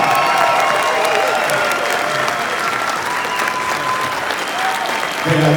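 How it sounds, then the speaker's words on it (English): Convention panel audience gives a loud, sustained round of applause with a few cheers, dense clapping filling a large hall and fading slightly before a final swell. "one more round of applause"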